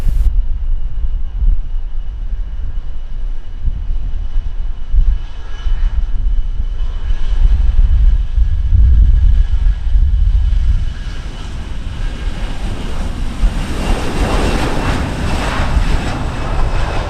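A Delta airliner takes off from runway 07 at Montego Bay, Jamaica, its engines a loud continuous roar with wind buffeting the microphone, rising into a brighter, harsher whine toward the end.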